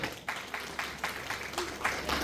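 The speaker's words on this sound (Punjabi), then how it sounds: "ਇਸ ਲਈ ਤੁਸੀਂ ਇੱਕ ਤਾੜੀ ਆਪ ਦੇ ਨਾਂ ਤੇ ਮਾਰੋ" Rhythmic clapping from an audience at an annual community night held by Himmatpura villagers in Australia: steady, fairly quiet claps in an even beat, a little distant, with no one speaking over them.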